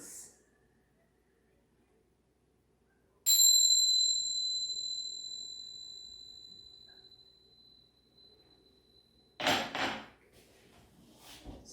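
A single bell strike rings out clearly and bright in a quiet room, then fades slowly over several seconds, followed by a short rustle of movement.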